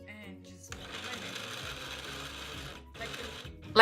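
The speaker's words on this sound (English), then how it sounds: "So this is the mango that I've cut already and then I put inside my blender" A kitchen blender whirring steadily as it blends mango with a little water, briefly stopping and starting again, with a soft voice underneath at times.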